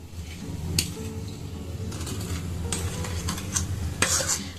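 Jaggery being stirred in a pan while making sandesh, with a steady scraping churn over soft bubbling sizzle and a few sharper utensil clinks against the pan.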